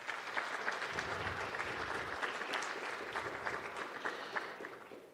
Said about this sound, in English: So huge round of applause for all of you this evening.